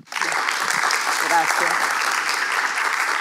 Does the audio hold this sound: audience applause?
yes